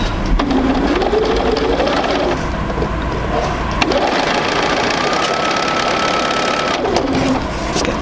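A sewing machine runs a quarter-inch seam joining a fabric square to a smaller rectangle for a sampler quilt block, a loud continuous motor hum with rhythmic needle knocking lasting throughout.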